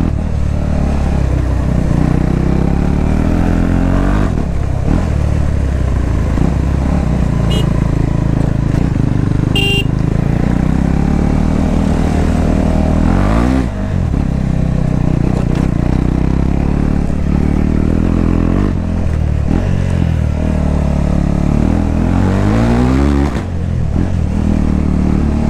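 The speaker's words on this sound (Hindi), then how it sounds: "तो चलते हैं अभी थोड़ा सा खींचते हैं बाइक को।" A modified KTM Duke 390 motorcycle, bs6 model, accelerates loudly on a cold mountain road, its engine revving up and dropping in repeated surges with a short horn toot, close and continuous throughout.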